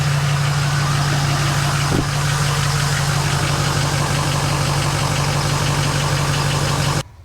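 A Ford 6.0 Powerstroke diesel, oil leaking from around the front main seal, idles steadily and loudly at close range with a constant low drone and a faint knocking rhythm, then cuts off abruptly at the end.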